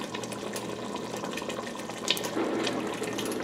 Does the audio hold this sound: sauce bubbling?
yes